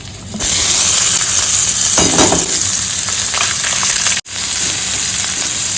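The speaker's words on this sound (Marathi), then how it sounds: "आता मी त्याच्यात कांदा घालणार आहे" Chopped onion tipped into a pan of chillies already frying in hot oil, setting off a loud, sustained sizzle with a brief stirring scrape partway through and a short break near the end.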